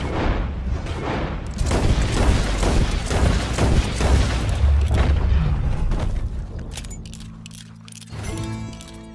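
Loud gunfire and booming blasts in Red Dead Redemption 2, a dense burst of heavy, repeated shots that fades toward the end, with no talking over it.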